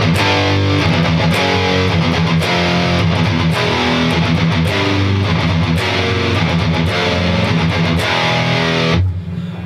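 A distorted electric guitar plays palm-muted power chords with fast alternate picking, a dense, loud chugging rhythm of tight repeated strokes that stops abruptly near the end.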